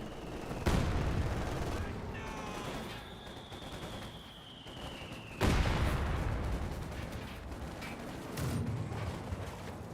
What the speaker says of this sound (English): 120mm mortar now full on the field. And some shots there on the Panzer Grenadiers. More mortar shots.